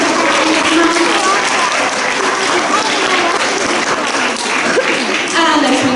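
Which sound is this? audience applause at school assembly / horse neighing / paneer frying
audience applause at school assembly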